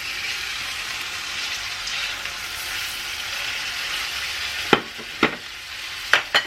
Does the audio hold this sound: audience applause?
no